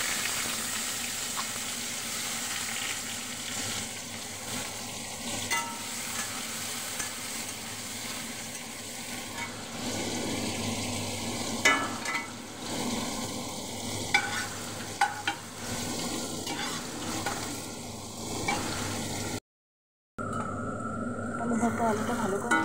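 Onion and green chili for a potato mash fry in a pan with a continuous close sizzle, broken by repeated scraping and stirring strokes; a voice talks over it now and then.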